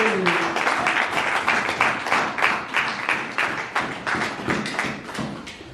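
A church congregation applauds during a worship service, a dense steady wash of many hands clapping with a rhythmic pulse throughout, fairly close and loud.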